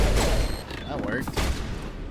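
Pistol fire in the Mass Effect video game, a short volley of sharp shots amid combat noise and echoing blasts, with voices mixed in.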